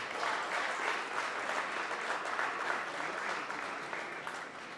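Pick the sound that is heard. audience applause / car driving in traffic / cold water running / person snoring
audience applause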